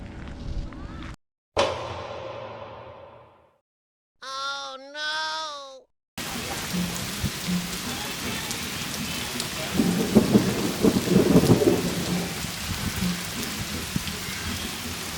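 Heavy rain pours down steadily over a parked electric tricycle outdoors in Thailand, a loud continuous hiss with deep thunder rumbling near the end, preceded by a few seconds of unrelated sounds.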